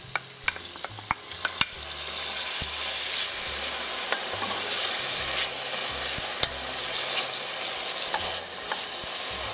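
Tomato is added to a root vegetable tagine with garlic and ginger and stirred, starting with a run of sharp utensil taps before settling into a steady, close sizzle with occasional knocks.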